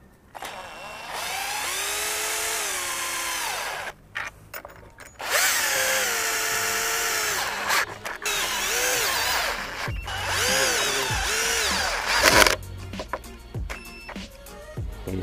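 A cordless power drill tightens a mounting plate on a Kohl Blitz Rider expandable motorcycle top case, whirring loudly in several long bursts with brief stops and pitch changes as the screw seats.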